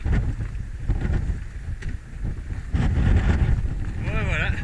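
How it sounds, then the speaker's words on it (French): Strong wind buffets the microphone while riding a bicycle downhill in Tierra del Fuego, a steady roaring rush that persists throughout with a brief dip midway. "When you go downhill, the wind blows."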